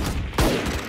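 Gunfire in the video game Valorant on the Fracture map, played as Jett: a single sharp shot or short burst near the middle, over steady background game noise.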